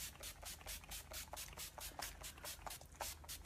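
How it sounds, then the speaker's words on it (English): Finishing hairspray sprayed from a can onto hair, a quick run of short, soft hissing bursts repeating several times, quiet and close. "Whew, that's a lot of spray."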